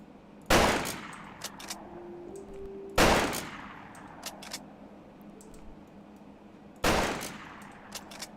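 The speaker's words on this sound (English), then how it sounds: "You can see the sort of electrical discharge at the end of the gun when it fires." Three separate shots from a video game gun with an electrical discharge at the muzzle, each a sharp crack with a short decaying tail, spaced apart over a quiet hum.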